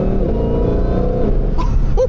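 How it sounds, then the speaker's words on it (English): A Ford Shelby GT500 muscle car revs hard in track mode, its engine roaring loud and close with a high supercharger whine riding over the rumble, ending in a couple of sharp mechanical chirps. "You hear that whine too from the supercharger?"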